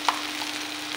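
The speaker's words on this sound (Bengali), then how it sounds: "এবার মশলাটা আমি ভাজি করে নেব" Ginger, garlic and cumin paste with salt frying in a pan after onions, a dense, even sizzle with one brief clink of a utensil near the start, close and fairly loud without talking.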